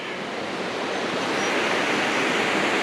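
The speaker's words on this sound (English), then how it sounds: "looking over a little section of the creek here" Creek water flowing along a walking track, a steady broadband rush of running water heard close and alone, constant in level without pauses.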